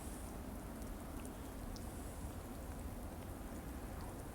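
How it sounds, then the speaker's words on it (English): Steady April rain falling outdoors on a Sunday afternoon, a soft continuous hiss of drops without pause, fairly quiet and even, with no voices. "Yeah, it is raining now."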